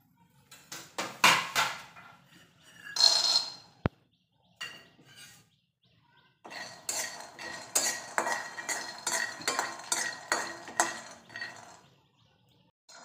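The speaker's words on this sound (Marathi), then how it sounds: "आपण प्रथम शेंगदाणे भाजून घेऊया" Peanuts dry-roasting in a pan for traditional shengule, with rattling, scraping bursts of stirring, a short pause midway, then a longer steady stretch of clattering.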